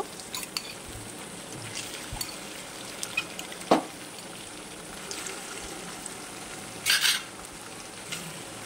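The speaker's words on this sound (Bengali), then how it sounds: "এবার তেলের মধ্যে আমি দিয়ে দেবো ম্যারিনেশন করে রাখা সে মাংস।" Marinated beef for shawarma fries in hot oil, a steady soft sizzle with occasional utensil knocks and a brief louder crackle near the end.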